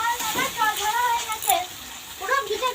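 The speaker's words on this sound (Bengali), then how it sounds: "একটু জল দিয়ে দিই, নাহলে আবার পুড়ে যাবে মশলাটা।" Water splashes into spice masala frying in a pan, a brief gushing pour heard under nearby voices.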